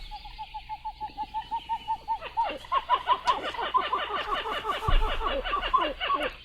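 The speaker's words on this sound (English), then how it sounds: "That intriguing sound is that of our mystery bird" A small brown-headed water bird calls in a steady run of evenly spaced piping notes, then breaks into a faster, busier chattering series of repeated calls, loud and close.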